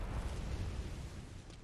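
Cannon blast in the video game Bloodborne, a dense, rumbling low boom filling the whole short moment, loud and close with no voices over it.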